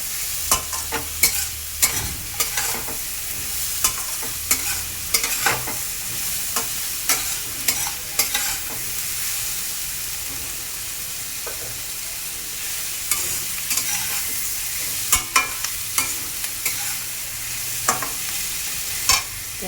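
Onions frying in hot oil while a spoon stirs them around the pan, a continuous sizzle broken by frequent scraping clatters of the utensil.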